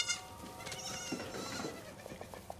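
Baby goats on an office floor in the TV show Severance give several overlapping bleats, close and moderately loud, against a low murmuring background.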